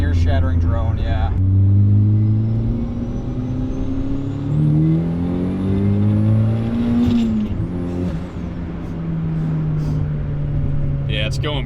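A turbocharged Mazda Miata accelerates hard on a public street, its engine note climbing through the gears, loud and close from inside the car, with occasional voices talking over it.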